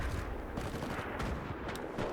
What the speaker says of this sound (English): Definitely being fired upon.